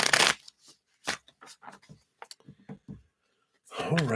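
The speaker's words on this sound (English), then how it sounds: "Let's give these a shuffle here." A deck of angel oracle cards being shuffled by hand, with quick riffling bursts and soft card slaps close up, ending with a brief voice.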